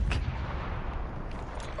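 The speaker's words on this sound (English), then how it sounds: "Artillery inbound." Video-game artillery fire: low booming thuds and crackling bursts across a short stretch, loud and dense, with a faint voice present.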